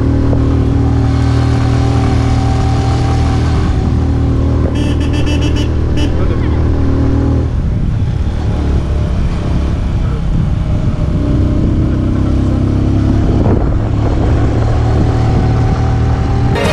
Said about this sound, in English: just listen to our motorbike as it tries to catch up with them